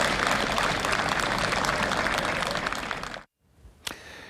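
Subdued applause from mourners at a funeral fills the space for about three seconds, a dense, steady patter of many hands, then stops abruptly, followed by near-silence and one brief sharp knock.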